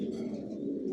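Big-sized pigeons coo steadily in a loft, a low continuous murmur of several birds close by with no pauses.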